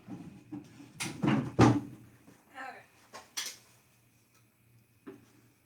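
A dresser's bottom drawer is pulled open with a few close wooden knocks and a sliding rumble, followed by quieter handling clicks and a faint tap near the end.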